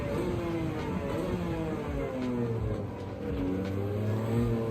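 A race car in Gran Turismo 7 slows under engine braking, with the engine tone falling through several downshifts and blips, moderately loud and alone.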